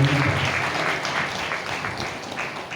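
A church congregation claps together loudly, a dense steady wash of applause running for the whole stretch with a faint voice underneath.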